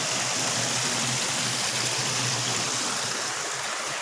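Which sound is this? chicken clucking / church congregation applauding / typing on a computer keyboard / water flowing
water flowing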